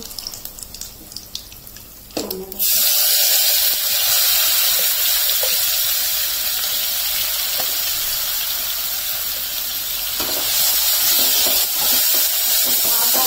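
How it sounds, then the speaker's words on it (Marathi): Cumin seeds and asafoetida hit hot oil, and after a quieter start a loud, steady sizzling hiss bursts up close and continues without pause. "आता तेल तापलेलं आहे, तेलामध्ये आपण थोडंसं हे जिरे टाकतो, अगदी थोडासा हिंग"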